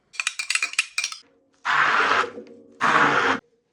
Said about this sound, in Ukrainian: І все гарно будемо збивати блендером до однорідної маси